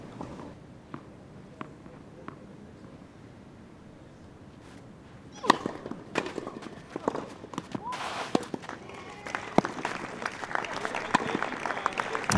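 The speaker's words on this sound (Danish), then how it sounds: "klapsalderen, vi hører i baggrunden" Crowd applause fills a hall during a Danish championship final in badminton. Scattered clapping rises into steady, dense applause, and a commentator talks over it.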